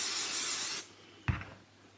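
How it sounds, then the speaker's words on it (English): Temporary spray adhesive squirted onto a shirt for machine appliqué: a loud, close aerosol hiss lasting under a second, followed by a brief soft click or rustle of the can. "I'm going to take my temporary spray adhesive and I'm going to do a quick squirt on the shirt."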